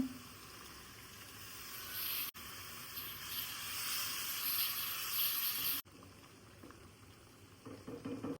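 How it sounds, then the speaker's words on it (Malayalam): Chicken curry gravy with added water bubbling steadily in a pot, a soft continuous hiss and simmer, close and moderately loud, with brief breaks in the sound. "ഇത് നല്ലോണം തിളച്ചു വന്നിട്ടുണ്ട്"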